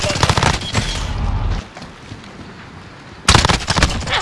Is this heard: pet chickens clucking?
no